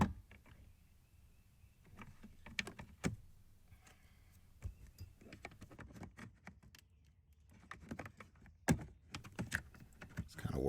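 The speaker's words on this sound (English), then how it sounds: "Using a dash removal tool, we will pry the trim piece of the dash" Plastic dash trim on an Alfa Romeo Giulia pried loose with a removal tool, a quiet series of irregular clicks, taps and small snaps close by, with no voices.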